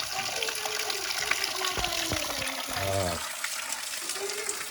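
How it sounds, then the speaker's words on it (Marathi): Steady broadband rush of water flowing year-round from a mountain spring in Dapoli, continuous and fairly close, with people talking over it. "12ही महिने एक झरण्यातनं पाणी येतो डोंगरातनं"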